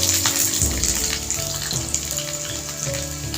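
Potatoes dropped into hot oil in a kadai for a vegetarian chana curry: a loud, steady sizzling hiss with bubbling, close up, with a few soft clinks of utensils and no talking.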